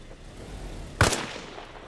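A single armor-piercing round fires in Arma Reforger: one sharp, loud crack with a short rumbling tail, set against quiet low background noise.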